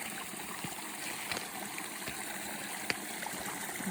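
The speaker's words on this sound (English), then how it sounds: "Cute little waterfall." A small waterfall spills into a cold winter creek where icicles hang, making a steady, close rushing and splashing sound with faint trickles, heard alone without any talking.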